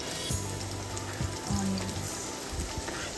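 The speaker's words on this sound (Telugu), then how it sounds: "పచ్చిమిర్చి కూడా వేసుకోవాలి. లో ఫ్లేమ్లో పెట్టి వేయించుకోండి" Green chillies fry in oil over a low flame, giving a soft, steady sizzle with a few gentle stirring knocks and a faint tonal hum beneath.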